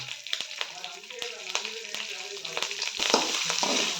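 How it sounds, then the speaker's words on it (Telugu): Curry leaves frying in hot oil in a pan while making upma, a close sizzle with sharp crackles and pops and stirring scrapes, swelling into a louder hiss near the end. "ఇలా బాగా వేయించుకోవాలి"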